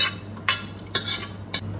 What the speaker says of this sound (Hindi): और अब हम कुकर से दाल इसमें मिक्स करेंगे।